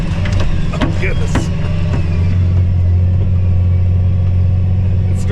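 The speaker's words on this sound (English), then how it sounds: "It's struggling. The tires are spinning." A tractor engine with diff lock engaged labors hard climbing a big hill, a loud deep steady drone with grinding mechanical clatter as the tires spin during wheat planting, with brief voices in the cab.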